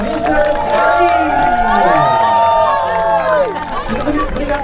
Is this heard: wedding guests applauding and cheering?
yes